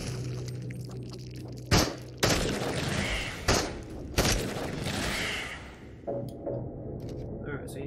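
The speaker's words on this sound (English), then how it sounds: "Shoot targets until the mag is empty." Gunfire in the video game Into The Radius, with a magazine emptied at targets: several loud, sharp shots spaced irregularly across the span, the last ones softer, over a steady background hum.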